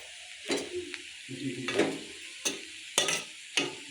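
Leftover roti tempering being stirred in a pan, with a handful of scraping strokes against the metal separated by short pauses, over a faint sizzle, close and moderately loud with no talking.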